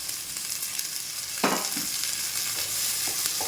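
Tomatoes and peas sautéing in a pan for a bottle gourd and pea gravy: a steady hiss of frying with a few sharp scrapes of a spoon stirring, close and alone.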